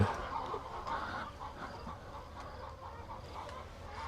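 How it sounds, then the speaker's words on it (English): Chickens cluck on a farm during morning chores, a steady, fairly quiet mix of murmuring hen calls and soft clucks from a flock nearby, with no one speaking. "We started raising the chickens."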